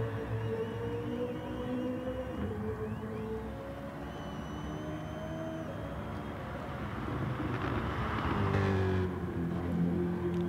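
BMW GT3 race car on the Catalunya circuit in GT Sport: a steady, droning engine note held through the lap, rising and falling slightly with gear changes and swelling in pitch and volume toward the end.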